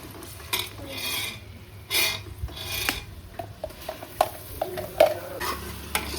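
Ground masala paste with turmeric frying in a pan for chicken saaru, with steady soft sizzle and repeated scraping stirs and light clinks against the pan, close by and without talk.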